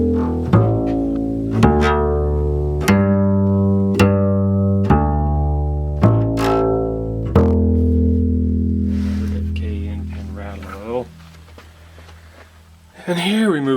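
A Kay upright acoustic bass, a 1941 or 1949 model in a bass specialty shop, is plucked in a slow series of deep, ringing notes, each decaying before the next, then fading out.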